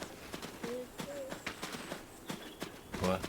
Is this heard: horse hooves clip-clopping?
yes